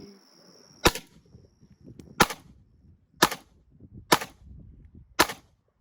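Five sharp, loud pistol shots from a Glock 19 fired at targets outdoors, spaced about a second apart with quiet gaps and faint background noise between them.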